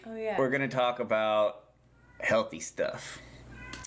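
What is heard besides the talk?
cat meowing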